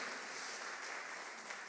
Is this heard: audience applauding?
yes